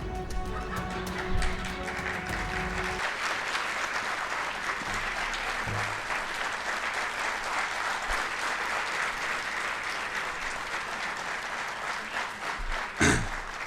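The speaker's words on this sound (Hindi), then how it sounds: "बहुत बहुत धन्यवाद इतनी तालियों के लिए" Long, sustained clapping from a large audience at a media talk in Indore, steady and full for over ten seconds, with a faint tonal murmur at the start and a sharp knock near the end.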